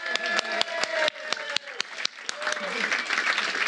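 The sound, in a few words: audience applause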